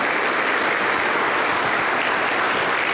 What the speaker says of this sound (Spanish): Aplausos para el Señor Jesús